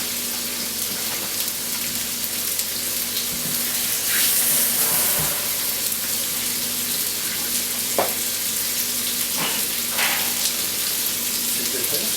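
Food sizzling in hot oil in a pan, a steady, loud crackling hiss that runs without pause, with occasional small pops and clinks from the cookware.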